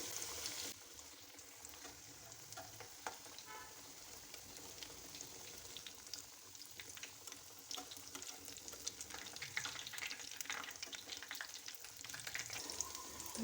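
Vegetable snacks frying in oil on a low flame make a continuous soft bubbling sizzle that carries on evenly throughout, quiet and close, with no talking.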